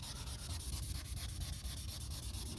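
Wet sandpaper rubs over deep scratches in the black paint of a car, a steady rhythmic back-and-forth scrubbing with a regular stroke, close and continuous, with no talking.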